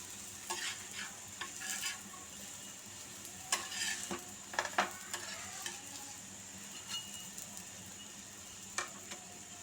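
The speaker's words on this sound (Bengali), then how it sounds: "আমি কিন্তু খুব অল্প তেলে পরোটাগুলো ভাজছি, চেষ্টা করছি যেন তেল খুব অল্পতে ভাজা যায়।" Potato-stuffed paratha fries in a little oil in a pan, with a soft continuous sizzle broken by scattered scrapes and taps of a spatula pressing and turning it, close and fairly quiet.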